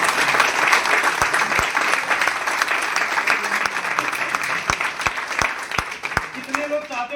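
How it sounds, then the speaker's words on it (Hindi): Seminar audience clapping, dense continuous applause throughout with a few louder individual claps standing out, and a speaker's voice coming in near the end. "मुस्कुरा के ताली बजा लो।"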